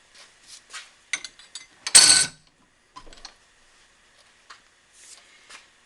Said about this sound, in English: Use a nice thin 4-inch flat file.